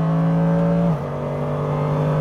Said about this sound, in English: I can't believe I'm actually driving a GT3 car.